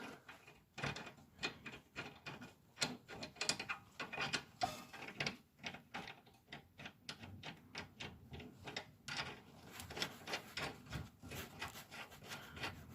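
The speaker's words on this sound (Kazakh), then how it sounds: "Гайкасын бұраймыз." Ratcheting and clicking metal work while a nut is run onto the rear control arm of an Audi 100 Quattro C4, a busy series of close, irregular clicks and scrapes with no talk.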